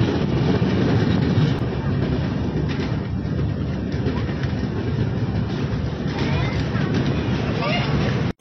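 Uttar Banga Express rumbles steadily into Rampurhat Junction, a continuous low rail and carriage noise heard from inside the train, with a murmur of passenger chatter running underneath throughout.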